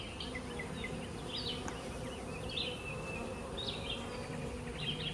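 Honey bees buzz steadily around an open beehive during a colony inspection, a dense continuous hum with individual bees whining past up close, no voices over it.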